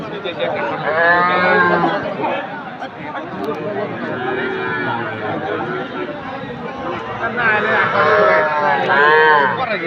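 Young local and Sahiwal calves at a busy farm cattle market, with loud close moos rising over steady crowd chatter and people talking nearby.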